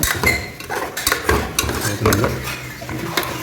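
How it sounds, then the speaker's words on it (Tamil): Mutton sautés in oil in a pan as a metal spoon stirs it, producing repeated scraping clanks over a steady sizzle, loud and close. "எண்ணெயில் நல்லா வதங்கணும் கொஞ்சம்."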